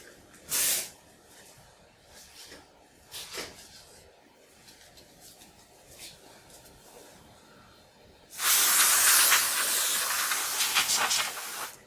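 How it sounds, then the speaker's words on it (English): Short hissing bursts from an aerosol can of contact cleaner, then one long, loud, sustained spray near the microphone, while restoring a Commodore 64. "I'm going to go ahead and spray this with some contact cleaner"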